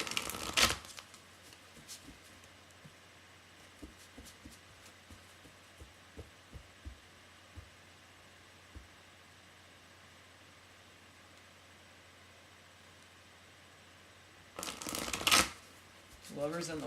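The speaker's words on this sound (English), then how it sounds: "I will even shuffle a little bit more." A deck of tarot cards gets a quick riffle shuffle at the start and again near the end, with a long, near-silent stretch of faint taps and room hum between the two bursts.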